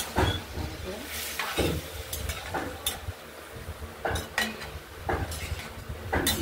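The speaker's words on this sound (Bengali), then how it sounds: "দিয়ে একটু নেড়ে চেড়ে নিই, তারপর জল দেবো।" A metal utensil scrapes and clinks against a pan while ground poppy seed paste is stirred into a potato and drumstick-stem vegetable curry, with repeated clattering strokes and a soft sizzle underneath.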